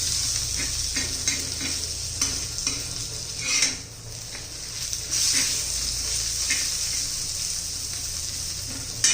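Steady sizzling of a green chilli mixture frying on an iron griddle, with intermittent scraping and stirring strokes and occasional clinks, close and continuous with no voices.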